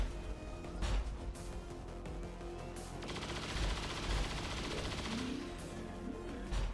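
Rapid bursts of automatic gunfire in XCOM 2, cyclic fire cutting through ablative armor, with sharp repeated cracks, an echoing impact and soft game music underneath.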